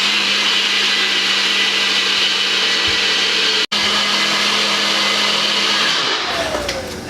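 A blender whirs steadily through a protein smoothie for about seven seconds, loud and continuous, with one brief cut partway through before the motor winds down near the end.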